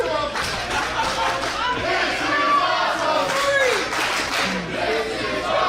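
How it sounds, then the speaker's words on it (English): A wrestling crowd applauds and cheers a Philadelphia match between Devious Cass and Marcus Mathers, a steady roar of voices mixed with scattered clapping, while commentators speak over it. "Crowd appreciative of this contest between two of Philly's finest"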